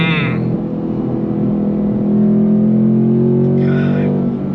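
A 2025 Ford Mustang GT with a naturally aspirated V8 accelerates hard in third gear, its loud, close engine note rising steadily in pitch and swelling in volume throughout.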